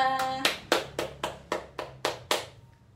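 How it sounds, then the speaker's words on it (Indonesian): Nine sharp, evenly spaced claps from a group of elementary pupils in a classroom lesson, crisp and rhythmic, followed by a brief trailing ring. "Coba tepuk tangan untuk kita semua"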